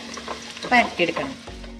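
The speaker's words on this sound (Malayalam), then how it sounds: "അപ്പം നമ്മുടെ വെളുത്തുള്ളി ഇങ്ങനെ ചെറുതായിട്ടൊന്ന് വാടിയിട്ട്" Garlic sautés in a hot pan with crackling sizzle and stirring scrapes, loudest in a short burst midway, close and without talking.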